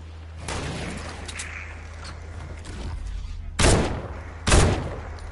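Bursts of gunfire in the Fortnite video game rattle through a continuous low game hum, ending in two sharp, loud shots near the close.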